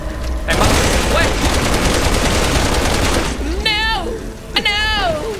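Loud, sustained rapid gunfire in the zombie video game Resident Evil 6, a dense continuous volley for about three seconds, followed by sweeping whistling game effects and a voice.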